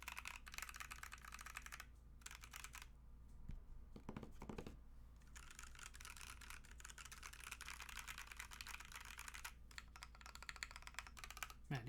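Typing on a custom TKL mechanical keyboard with lubed Tangerine switches, rapid muted clacks in bursts with brief pauses, quiet and close.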